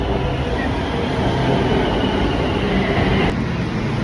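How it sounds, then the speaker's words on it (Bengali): A Bangkok metro train pulls into Nana station with a steady, loud rumble of wheels on rails and a brief metallic squeal, heard up close from the platform. "মেট্রো আসছে"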